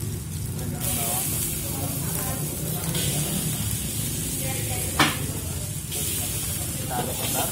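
Onion hitting a hot pan for nasi goreng gila (crazy fried rice) at a BSD food stall gives a steady, loud, broadband sizzle and hiss throughout, with a short sharp spike midway and faint background voices.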